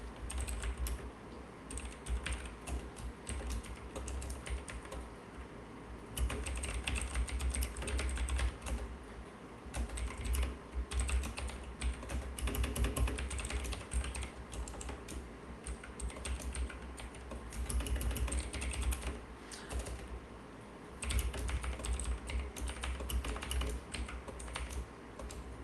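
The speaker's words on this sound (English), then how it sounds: "Not my best typing ever" Steady typing on a computer keyboard, a fast continuous patter of key clicks lasting throughout at moderate volume, with short pauses and bursts.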